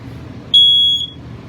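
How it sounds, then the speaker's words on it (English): A single shrill electronic beep from a smoke alarm in a 2012 Jayco Eagle 29.5RKS travel trailer, lasting about half a second over a low background hum. "Your fire alarm here."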